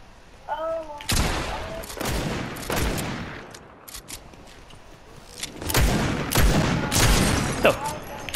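Fortnite SMG fire in a desert gun-game match: several loud bursts of rapid shots with short pauses between them, mixed with game effects and a few short voice sounds.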